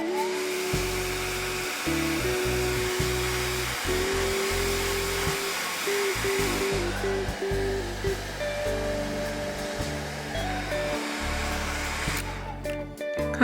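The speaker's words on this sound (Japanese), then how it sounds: "ドライヤーで乾かします。" A hair dryer blows over wet watercolour paint on paper, a steady close whooshing hiss that runs the whole time over soft background music.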